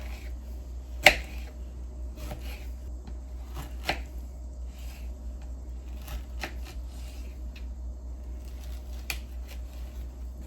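A knife cuts through a flat peach on a board in a home kitchen: a handful of sharp, separate knocks spaced irregularly over a quiet background, with no talking.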